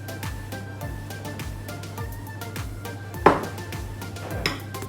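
Eggs for a super moist chocolate overload cake batter go into a bowl, a few soft knocks and one sharp clink against the bowl over a steady low kitchen hum.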